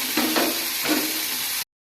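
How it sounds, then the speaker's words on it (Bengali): Tomato frying with turmeric and salt in a pan, a steady sizzling hiss with a few soft stirring knocks, close and fairly loud, cutting off abruptly. "এখন একটু ভাজা ভাজা করে দিব।"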